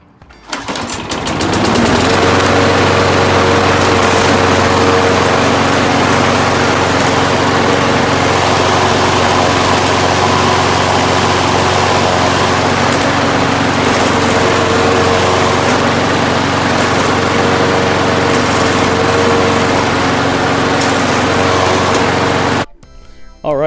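A Craftsman lawn mower engine runs steadily and loud for about twenty seconds while its self-propelled wheels are tested, a constant droning hum with stable harmonics that cuts off abruptly near the end.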